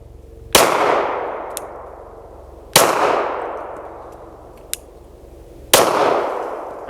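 Three loud, evenly spaced pistol shots ring out during a trigger finger drill, each a sharp crack with a long ringing decay, with a few faint clicks between them.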